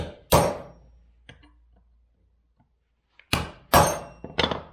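Sharp metallic hammer strikes on a center punch marking metal, one blow, then a pause, then three quick ringing taps close by.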